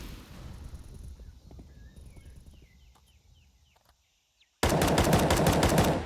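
Rapid gunfire in the Counter-Strike map Ancient, with rattling bursts under a busy game soundscape that drops almost to silence before a loud, dense volley of shots ends it.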